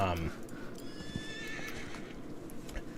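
Horses neigh and whinny in the Rise to War strategy game, set in Rohan, with a loud whinny at the start over busy clip-clop and battle ambience, and a voice talking underneath throughout.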